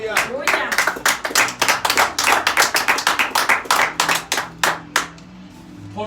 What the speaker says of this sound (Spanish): Dele Gloria a palmas.